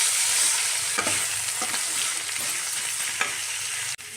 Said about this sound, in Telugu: సో ఇప్పుడు ఇది బాగా ఫ్రై చేసుకోవాలి మనం